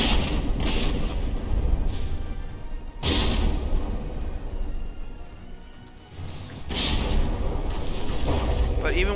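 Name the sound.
battleship gunfire and explosions, From the Depths video game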